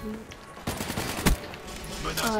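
Rapid automatic gunfire from the Shiva weapon in a video game, with bursts of shots and a sharp loud crack near the middle, with a voice talking over the action.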